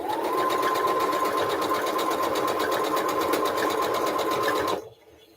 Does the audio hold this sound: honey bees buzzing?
no